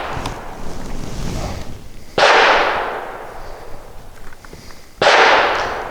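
Two loud handgun shots fired with a Crimson Trace laser sight at an ABC steel target around 45 to 50 yards away outdoors, each a sharp crack trailing into a long fading echo, a few seconds apart.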